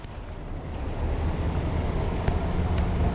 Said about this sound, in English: You'll notice it's loud out here. That's not ideal, but this is, of course, a busy street.